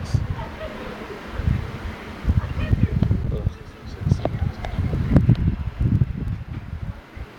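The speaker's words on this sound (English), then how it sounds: "the heavy winds that go along with this, like 36 miles an hour" Heavy gusting wind in a snow storm in Atlanta, buffeting the microphone in irregular rumbling bursts that rise and fall, loud and close with rustling between gusts.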